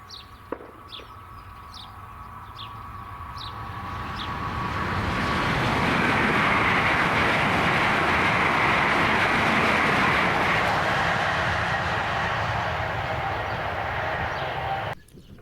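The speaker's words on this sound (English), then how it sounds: "A pair of top and tailing Class 66s on an engineer's train." Two Class 66 diesel locomotives, one at each end of an engineer's train, pass Fenwick level crossing. A steady roar swells to a loud broad rumble at its height, then cuts off sharply, with a few bird calls before it.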